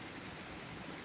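Flowing stream water gives a steady, even broadband rush, faint and uninterrupted throughout the short stretch.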